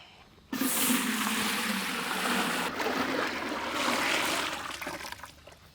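Water poured into a pot to cook chicken biryani rice gives a sudden, loud gushing rush that keeps on steadily for several seconds before easing off, with no voices.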